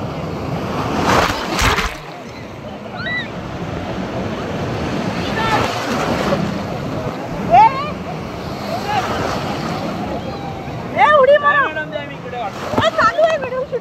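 Surf washes and wind buffets the microphone in clear sea water at Coral Beach, Pattaya, Thailand, where people wade and play; scattered splashes and bursts of voices and shouts rise over the steady roar of the waves.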